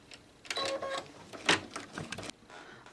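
An embroidery machine stitches a smocked Easter egg design in a series of uneven mechanical whirring bursts and clicks, close by and moderately loud with short gaps between them, no speech.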